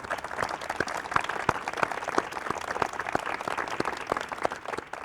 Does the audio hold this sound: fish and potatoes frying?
no